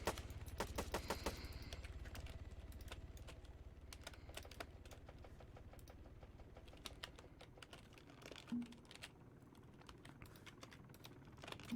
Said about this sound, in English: please tell you guys to stop typing in chat